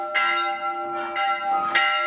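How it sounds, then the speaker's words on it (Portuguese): A church bell from around 1930 at the São João Bosco community church in Luiz Alves, Brazil, strikes three times in quick succession, each ring humming into the next, loud and near. "Toquei o sino"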